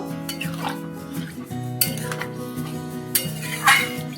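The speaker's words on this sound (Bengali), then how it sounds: "জল দিয়ে নেড়ে নিচ্ছি, দিয়ে একটু সামান্য ফুটিয়ে নেব।" A spoon scrapes and clinks against a pan while egg curry is stirred after water is added, with a few sharp metallic knocks over a soft background hum.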